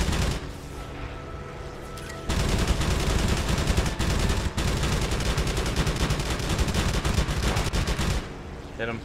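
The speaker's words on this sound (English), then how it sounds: "Oh, they're shooting at me." Rapid machine-gun bursts from aircraft in the aerial combat game Wings of Prey, loud and dense, running almost continuously for several seconds with a short quieter stretch at the start.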